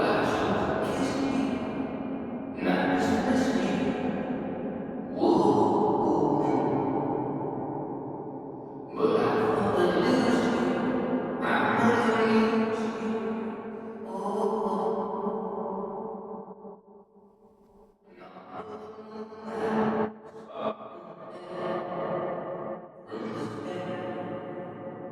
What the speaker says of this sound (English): Lush is just kind of a chorus effect for the reverb, so it starts to modulate the pitch